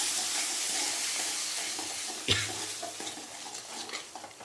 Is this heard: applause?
no